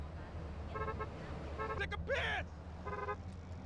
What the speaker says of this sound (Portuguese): With high FPS, traffic beeps will play very quickly.